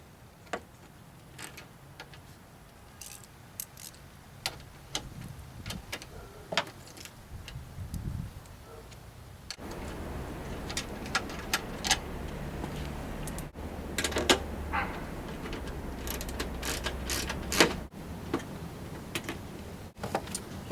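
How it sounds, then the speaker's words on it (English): A ratchet wrench loosening 7 mm headlamp bolts on a 2009 Pontiac G6, with a run of close, sharp repeated clicks at an uneven pace, over a low background hum that thickens partway through. "we're going to remove these 2 bolts here"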